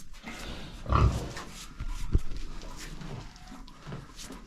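Pigs on a small Ukrainian family farm grunt and snuffle close by after feeding, with low irregular grunts and one louder burst, set against quiet barnyard background noise.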